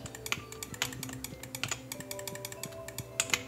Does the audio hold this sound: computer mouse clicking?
yes